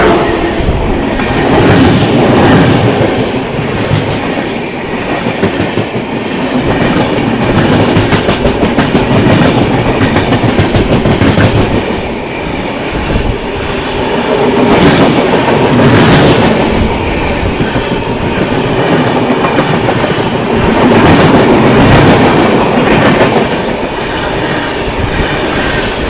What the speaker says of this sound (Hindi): ये है स्पेशल ट्रेन का हाल इंडियन रेलवे में।